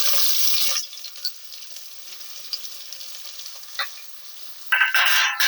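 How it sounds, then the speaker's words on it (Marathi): Chopped onion frying in hot oil in a pot for chicken dum biryani, a steady sizzle with stirring scrapes, louder at the start and end and quieter in the middle. "आता मी हा आपला उरलेला कांदा टाकून घेते यामध्ये."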